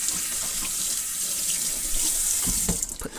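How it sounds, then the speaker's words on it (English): Water runs steadily from a kitchen sink tap during handwashing, a continuous close hiss with brief splashes and clatter near the end. "let me just wash my hands first."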